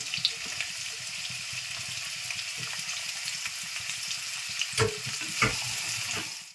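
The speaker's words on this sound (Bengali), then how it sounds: "এখানে কেটে রাখা পেঁয়াজগুলো আমি এবার তেলে" Chopped onions sizzle steadily in hot oil in a kadai, already tempered with cinnamon, cloves and dried red chillies, for a coriander chicken curry; close, continuous frying with a few sharper crackles and stirring clatters near the end, no voices.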